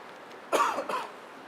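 A single throaty cough, short and fairly close, with a brief second burst like a throat clearing, in a quiet indoor room.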